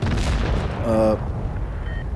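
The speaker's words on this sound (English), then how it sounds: "Boom! There's a shot into his track wheel." A tank cannon shot in World of Tanks Blitz lands on an enemy Leopard's track wheel with a deep boom, followed by a brief ringing metallic tone as the rumble fades.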